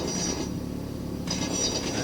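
Train passing by in the Planetfall video game, a steady low rumble and mechanical rolling with a brighter rise of rail noise near the end, moderately loud and with no talk.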